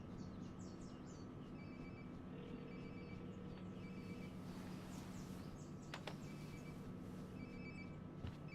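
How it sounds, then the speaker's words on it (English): A phone ringing nearby in the video game Life is Strange: Before the Storm, with a steady electronic ring over a low in-game ambient hum, no voices. "Sounds like my phone is definitely nearby."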